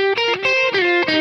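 Electric guitar run through a delay plugin with the mix knob cranked up, single notes ringing with distorted tone and audible repeating echoes trailing each note.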